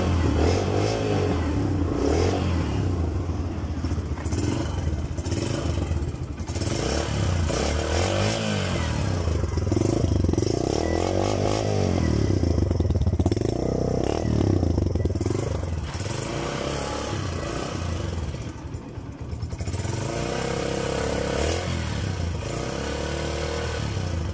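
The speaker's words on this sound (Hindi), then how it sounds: "अब आपको इसका साउंड टेस्ट करवाता हूँ" A 2020 Yamaha YBR125 motorcycle engine runs for a sound test, a loud close single-cylinder putter with repeated revs rising and falling over about twenty seconds, with no speech.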